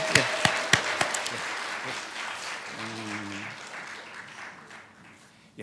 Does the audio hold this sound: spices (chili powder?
no